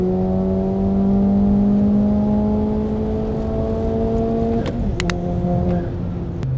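A big-turbo VW Scirocco 1.4 TSI pulls hard through the gears, its loud, close engine drone climbing steadily in pitch before a quick upshift briefly drops the note and the climb resumes.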